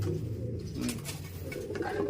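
Young racing pigeons cooing softly nearby, low throaty calls repeating over a steady background hum, no talking.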